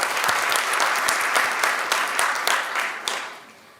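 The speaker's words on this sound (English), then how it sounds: "Can we have a round of applause for him" Audience at a US-India jewelry industry trade symposium claps in a steady, dense round of applause that holds strong for several seconds, then thins and fades toward the end.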